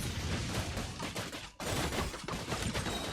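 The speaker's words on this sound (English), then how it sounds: "Here come the fireworks!" Fireworks burst in Genshin Impact, a fast crackling barrage of pops and bangs that fills the scene, breaks off for a split second partway through, then resumes at full strength.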